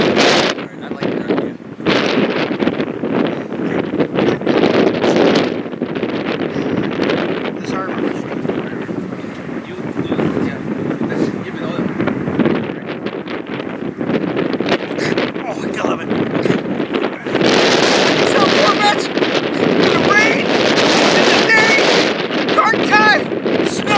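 Strong gusty wind buffets the microphone on a windy day beside a Corvette, a loud continuous roar with rising and falling rumble while a voice is partly heard beneath it.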